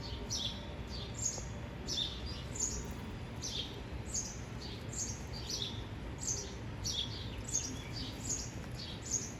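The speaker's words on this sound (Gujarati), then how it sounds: "અત્યારમાં તો ખિસકોલી બોલે છે" A squirrel gives repeated high, sharp chirping calls in a rural Gujarat village garden with flowering trees, the short chirps coming in quick bursts over steady low background noise.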